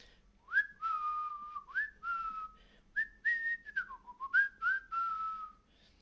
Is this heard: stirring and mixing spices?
no